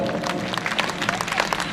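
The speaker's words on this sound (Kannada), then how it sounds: "ಮೊದಲು ಒಂಜಿ ವೇದಿಕೆ ಬೈದ್ರು ಜೋರಾನ ಚಪ್ಪಾಳೆ" Loud applause from an audience at a youth club's 44th anniversary event greets a Tulu film team on stage, dense clapping sustained throughout with a voice heard over it.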